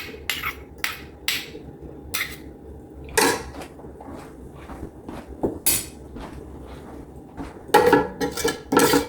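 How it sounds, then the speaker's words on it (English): A metal pot of blueberry jam is lifted and handled in a home kitchen, giving a series of sharp clanks and knocks at irregular intervals, with a few louder clusters of metallic clatter near the end. "I'm going to come back over here and just pick up the pot because it's getting down to the bottom"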